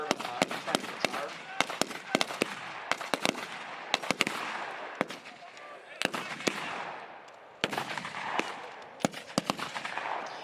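Sharp rifle shots from M1 Garands crack out in irregular bursts and single reports during a World War II reenactment battle, some close and loud, others farther off, over a low outdoor murmur.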